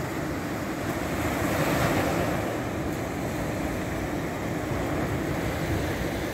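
Rough sea waves break on a beach where surfcasting rods are set up, forming a loud, continuous roar of surf mixed with wind buffeting, with no voices.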